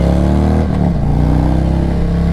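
A motorcycle engine revving, briefly dropping in pitch as it shifts gear, then pulling hard again to overtake a Prius, loud and close with a steady engine drone.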